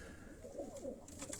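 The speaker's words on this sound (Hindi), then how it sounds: "ये कबूतर आपको दिखाए जा रहे हैं डॉक्टर शाहिद साहब के।" Pigeons coo faintly at a racing pigeon fancier's loft, a soft, brief rolling coo over low background noise.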